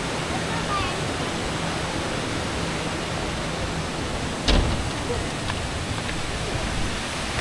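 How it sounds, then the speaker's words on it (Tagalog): A strong current of flowing water rushes in a steady, loud roar, with a brief thump partway through. "Grabe, lakas ng agos."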